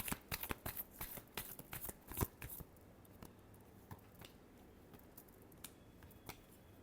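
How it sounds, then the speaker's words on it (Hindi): Tarot cards being shuffled in a quick flurry of crisp riffling snaps and slaps, bunched in the first few seconds and then thinning to scattered soft flicks over a quiet background. "Last shuffle."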